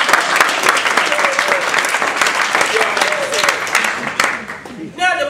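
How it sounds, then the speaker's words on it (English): Dense, steady applause rings out from the audience at a Toastmasters table topics speech contest, lasting several seconds, with voices mixed in near the end. "Now we need to give a round of applause"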